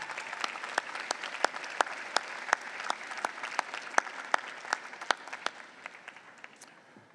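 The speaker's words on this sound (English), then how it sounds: "Give him a round of applause." Applause from a crowd at a university graduate school commencement ceremony, a steady dense clatter of many hands with sharper individual claps standing out, sustained for several seconds before easing off slightly at the end.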